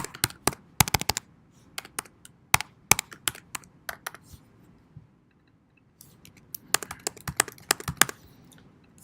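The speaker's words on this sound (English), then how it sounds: "I can't type at the worst moments" Bursts of typing on a computer keyboard, with quick clusters of sharp key clicks, a short pause in the middle, then a second flurry, recorded close and fairly quiet, with no talking.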